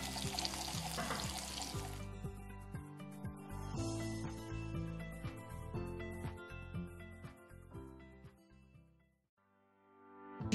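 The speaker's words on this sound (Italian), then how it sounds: "qui di nuovo abbiamo aggiunto un mestolo di acqua di cottura della nostra pasta" A ladle of starchy pasta cooking water poured into a pan of rendered guanciale for pasta alla gricia, with a loud, hissing pour and sizzle in the first two seconds, followed by quieter kitchen noise and steady tonal background sounds.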